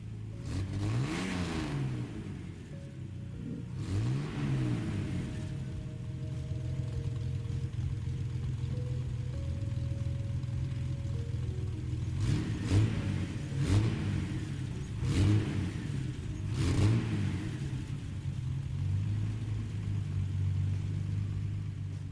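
Inline-six engine of a 1960 XNR Ghia Roadster in Gran Turismo 7, tuned to 650 PP, revving repeatedly in rising and falling sweeps, with a steady drone between the bursts and sharper rev spikes toward the end.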